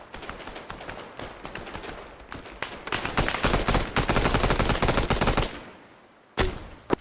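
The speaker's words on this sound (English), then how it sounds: "We're hitting a lot of gunfire from our direct south position." Rapid automatic gunfire from the video game ArmA 3 builds into dense, loud overlapping bursts, then fades to a lull before a final sharp close shot and one more crack.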